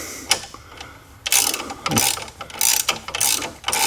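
A ratchet wrench loosens a bolt on the brakes of a 1976 Pontiac Trans Am during a disc brake conversion. Several bursts of fast clicking ratcheting sound close by, broken by short pauses and a clunk of metal.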